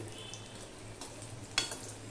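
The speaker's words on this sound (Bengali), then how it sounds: "এবার গ্যাসের ফ্লেমটা হাই করে না দিয়ে মিডিয়ামে করে দিয়ে আমি পকোড়াগুলো ভাজছি" Bottle gourd leaf and curry leaf pakoras fry in oil over a medium flame, making a soft, even sizzle with a small crackling burst near the end.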